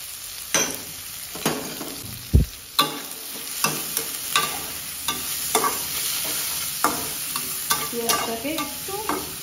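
Onion frying in oil in a pan for a prawn and Malabar spinach dish, a steady close sizzle broken by sharp scraping and stirring clatters and one low thump, with no voices.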